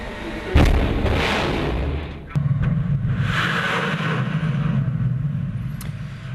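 Russian cruise missiles launched from naval ships in the Caspian Sea, a loud roaring rush with a sharp blast onset, then a second surge of sustained, steady rocket roar.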